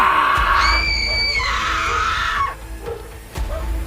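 Three frightened people scream together in a dramatized horror scene at a haunted jungle bungalow, giving loud, rising, overlapping shrieks that end abruptly, followed by a brief thump.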